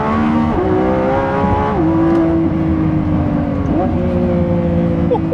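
A Lamborghini Revuelto's V12 engine revs hard up close, its loud rising howl dropping at each upshift in a repeating climb-and-step pattern, with no talking.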